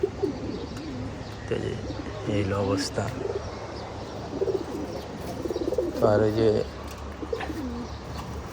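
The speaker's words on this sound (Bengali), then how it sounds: "কবুতর" Pigeons coo in low, throaty rolling bursts close by, several calls rising over a background of bird chatter while someone speaks intermittently.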